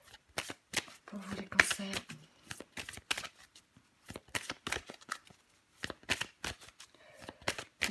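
Tarot cards shuffled and drawn by hand, giving repeated crisp riffling and slapping bursts close to the microphone, with a voice speaking French briefly over the shuffling.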